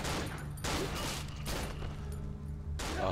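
Gunfire in the horror game Cry of Fear, several loud, sharp bursts spaced about a second apart with short pauses between them, heard without talk over them.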